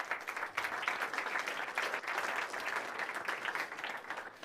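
Audience at an agri startup summit pitch applauds, giving steady, dense clapping from a medium crowd, continuous for several seconds at an even level without clear speech.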